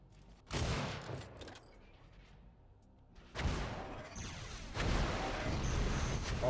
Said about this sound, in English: Oh, rockets flying in.